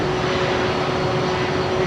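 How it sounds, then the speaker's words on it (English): A Boeing 767 jet pushing back, a loud steady engine roar with a constant whining tone on top, close and unbroken. "I think that's that prime 767 jet"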